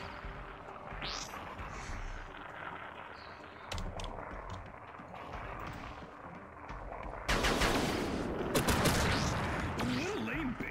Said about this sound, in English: Who's firing at me?